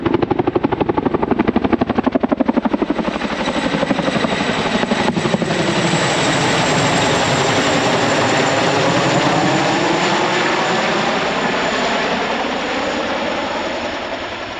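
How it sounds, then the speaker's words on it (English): A helicopter circles low over a field near Weedon in Northamptonshire, its rotor chop loud and steady, then a continuous engine roar that holds for several seconds before slowly fading as it moves away. "We've no idea why this helicopter was flying around this field near Weeden"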